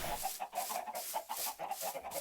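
Minecraft chickens cluck in short repeated bursts, soft and close, with no talk over them.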